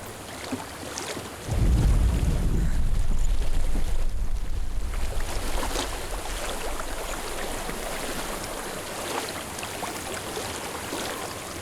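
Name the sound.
flowing water in video game Hellblade: Senua's Sacrifice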